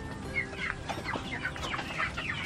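Farm chickens and a rooster clucking at feeding time, several birds calling in short overlapping clucks and squawks at close range over steady background noise.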